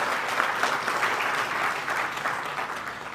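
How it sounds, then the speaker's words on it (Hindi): Loud, steady applause from an audience at a talk, a dense wash of clapping filling the whole moment without a break. "आप सबके लिए जोरदार तालियां हो जाए।"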